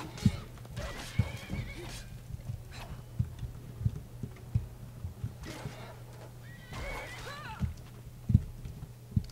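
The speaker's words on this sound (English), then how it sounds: "It's my horse." Horses in The Elder Scrolls V: Skyrim whinny loudly several times, with clip-clop hoofbeats and sharp thumps in between, and game voices now and then.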